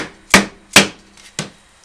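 Three sharp taps on a part being seated while a plywood sheet-goods hauling rack is assembled, evenly spaced with short decays, close and fairly loud with no talking.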